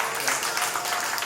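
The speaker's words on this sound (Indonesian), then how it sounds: "kita berikan aplaus untuk Bapak Bupati Indramayu" An audience applauds the regent of Indramayu at a thanksgiving celebration for the newly elected regent, a steady wash of many hands clapping at moderate distance.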